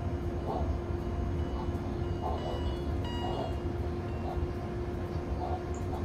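BR285 locomotive hauling eight wagons in the MaSzyna train simulator game, a steady low rumble with a sustained mechanical hum and faint rhythmic clicks, moderately quiet throughout.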